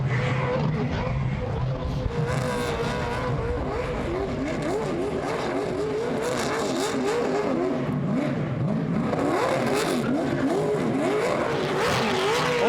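A race car spins donuts at the Goodwood 75th Members' Meeting, its engine revving hard and rising and falling in continuous wavering sweeps for the whole stretch, loud and close, with tyre noise blended in.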